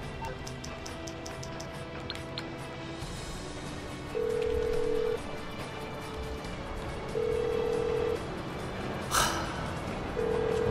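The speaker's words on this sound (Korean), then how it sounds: "전화 좀 받으라고" Phone ringing inside the video game GTA 5, a repeating electronic ring tone sounding in three evenly spaced bursts, moderately loud over quiet game background with faint clicks.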